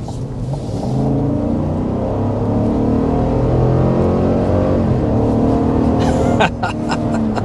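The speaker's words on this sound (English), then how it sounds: "gotta love the sound of that V8 American muscle" A 2024 GMC Yukon Denali full-size luxury SUV with its V8 revs hard under heavy acceleration, a loud, steady engine roar that holds strong throughout, with a brief clatter near the end.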